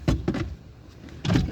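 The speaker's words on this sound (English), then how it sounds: "turn some of these windows down." Hand-cranked windows being rolled down in an old-school car, a few short bursts of cranking and rattling with a pause between, close and muffled inside the cabin.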